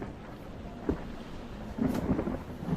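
Rain patters steadily in the background while low rumbles of thunder swell briefly near the start and again toward the end, a dim, distant-sounding thunderstorm with no voices.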